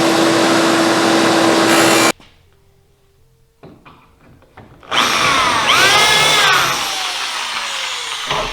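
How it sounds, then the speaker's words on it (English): A power drill bores pocket holes in wood for a large, movable storage unit, a loud steady whir at first, then a pause, then another loud burst of drilling that holds on at a slightly lower level. "I got the pocket holes all drilled"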